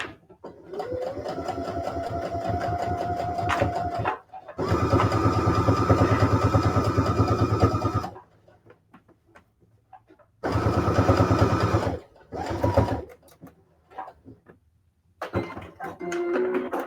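A sewing machine stitching fabric runs in bursts, long steady whirring runs broken by pauses and a few short stop-start spurts, close and loud.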